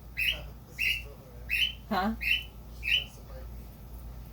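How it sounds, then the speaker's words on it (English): A pet bird gives repeated sharp squawks, about six calls in a steady rhythm, near and fairly loud, over a low background hum, with a brief spoken word from a person in the room. "can you give that bird some attention?"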